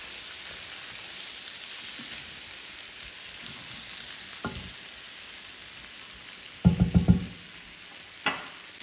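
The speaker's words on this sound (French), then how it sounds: "Et là, on va déglacer le tout avec notre bouillon." Broth hitting a hot pan of chicken and risotto rice, a faint steady sizzle that bursts into a short loud crackling hiss of deglazing, then a brief knock near the end.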